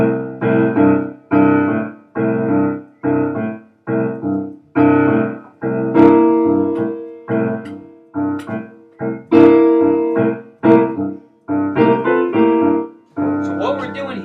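A repeating blues left-hand pattern on keyboard, fifth finger on C and thumb on G, rolls along in steady, evenly spaced chords, clear and up close with no talking.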